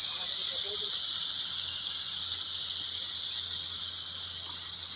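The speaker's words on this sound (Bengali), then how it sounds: "পাম্প আমাদের চালু হয়ে গেছে।" An electric water pump runs steadily just after being switched on, giving off a constant high-pitched whine and hiss over a low electrical hum, close and unchanging.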